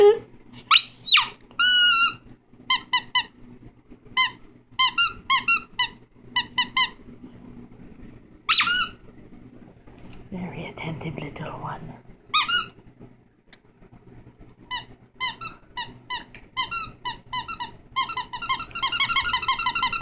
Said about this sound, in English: This one squeaks.